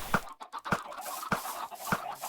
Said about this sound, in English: as soon as those chickens lay eggs, it fires out the eggs